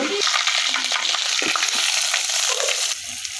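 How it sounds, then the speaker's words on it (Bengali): Onion and garlic fry in hot oil with a dense, continuous sizzle, close and fairly loud, softening slightly toward the end with a few stirring clinks. "এখানে পেঁয়াজ রসুন এগুলো তেলে ভেজে নিলাম"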